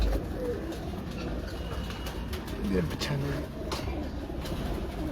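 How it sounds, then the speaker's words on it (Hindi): Breeder pigeons coo softly in a loft, low gurgling calls faint beneath a man's nearby speech and a steady background hiss. "ये कबूतर है जी"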